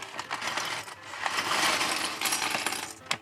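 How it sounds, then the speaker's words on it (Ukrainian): A bag of small plastic LEGO pieces is poured onto a table, making a close, dense rattling clatter that runs continuously for about three seconds, swelling in the middle. "Під таку музику взагалі дуже епічно висипати лего на стіл"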